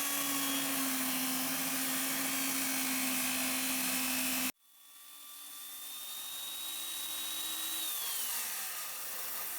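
A power saw rips a strip off a deck plank with a close, steady high whine. It cuts off abruptly, then spins back up and drops in pitch as it winds down.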